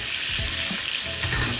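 Garlic and rosemary lamb chops sizzle loudly and steadily in a hot pan as they are flipped, a continuous close-up hiss with faint clinks.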